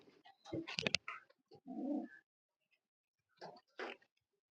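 Breeder pigeons at a home loft coo in short, close bursts, a few throaty calls clustered early and two more after a quiet gap, with no talk over them.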